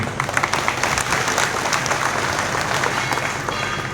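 Audience at a political speech clapping, a sustained burst of dense applause from a crowd, steady and fairly loud throughout.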